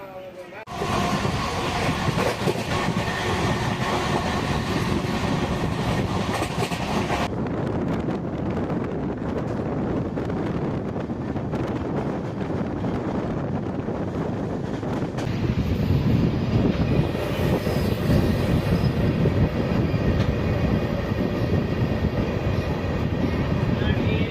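Trichy-Tambaram Intercity Express running along the main line on rails, a loud continuous rumble and clatter of the passing train with wind buffeting the microphone, steady throughout and rising slightly in the second half.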